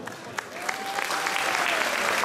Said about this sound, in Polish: Teraz panie stoją i klaszczą